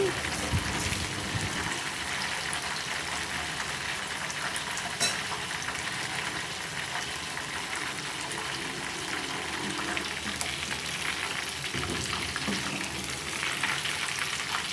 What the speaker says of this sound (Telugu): ఇలా తిప్పుకుంటూ ఫ్రై చేసుకోవాలండి